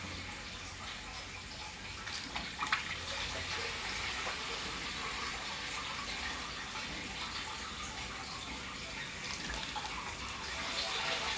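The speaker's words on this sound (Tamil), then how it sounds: "இப்போ நம்ம இதில் இரநூறு லிட்டர் அளவுக்கு தண்ணி நம்ம சேர்க்க போகிறோம்" Water gushes into a farm tank that is being filled to about 200 liters for drip irrigation. The rushing splash is loud and steady throughout, with no voices.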